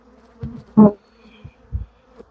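Honey bees buzz around hive boxes during a rainy-day hive inspection, a few close, loud bursts of droning rising and fading between quieter gaps.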